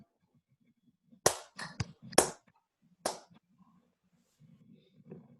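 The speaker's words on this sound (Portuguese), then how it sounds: "Foi umas 3 palmas." A few sharp hand claps, roughly four spaced strikes, ring out in a quiet theater space during a stage performance of Euripides' Elektra, with faint low murmuring in the background.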